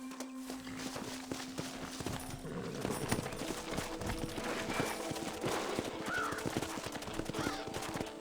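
Horses' hooves clip-clop on the ground in the Western game Red Dead Redemption, a steady rhythm of hoofbeats beneath a busy mix of ambient game sounds and other noises.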